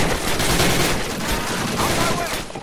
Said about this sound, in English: we need our critical machine gunner to open fire